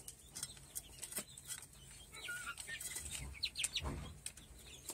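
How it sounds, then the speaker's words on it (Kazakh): Hens and small chicks on a farm, faint scattered clucks and peeps with a brief flutter of wings, heard at a distance over low background noise. "Бүгін мен шөжелерімді, тауықтарымды бүкілін көрсем."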